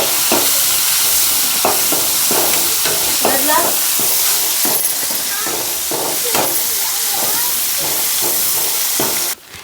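Onions and curry leaves fry in a pan for a village-style meat curry, a loud continuous sizzle with repeated scraping stirs, ending abruptly.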